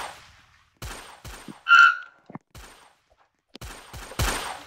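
Gunshots in a Roblox duel, a few sharp cracks spread across a short stretch with a brief burst in the middle, heard moderately loud in a game with no talking.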